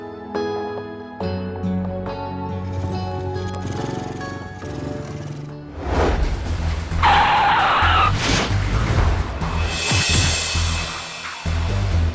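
A car skids with tires squealing, a loud screech rising over engine noise and scraping, the squeal peaking sharply midway before fading into rumbling, with no voices.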